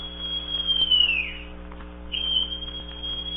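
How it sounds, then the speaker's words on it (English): A whistle is blown in a Treasure Island story reading, two shrill tonal blasts, the first bending downward as it ends, the second shorter, heard over a steady low hum. "Then Silver brought out a whistle."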